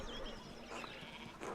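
Faint sheep bleats sound over a steady ambient game soundscape in the video game Pentiment, a few soft wavering calls, quiet and somewhat distant.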